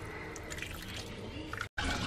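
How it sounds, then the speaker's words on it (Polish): Water pours into a baking dish of sliced potatoes coated in oil, a steady liquid splashing that runs for about two seconds, breaks off briefly, then resumes close up. "I dodajemy trochę wody"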